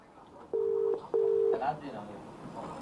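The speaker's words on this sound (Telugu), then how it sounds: "ఇప్పుడు నేను ఫోన్ చేసేది అలానే ఉంది. వాళ్ళు ఎత్తినట్లేదు." An outgoing phone call rings without being answered: two steady ringback tones, then a short rising blip, all faint against a quiet background.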